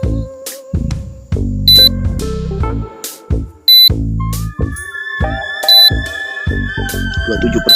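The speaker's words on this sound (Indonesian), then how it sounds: "ada suara berisik itu adalah dari alarm remote drone saya" Electronic beeps and warbling alarm tones from a drone remote controller, sounding while the drone returns home, repeat high and piercing over bursts of low rumbling noise.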